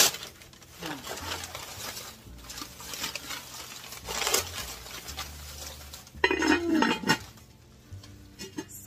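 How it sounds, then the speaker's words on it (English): A heavy Brandani Dutch oven is unpacked from a haul, its metal body and lid clinking and clanking in a few close, irregular knocks amid rustling, with a louder clatter near the end. "Dutch oven."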